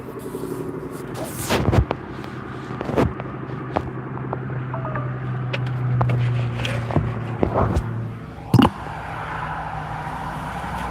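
Steady traffic on a major highway beside a Toyota dealership in Bartlesville, a continuous low road rumble with passing vehicles swelling and fading, punctuated by several sharp nearby knocks and thumps.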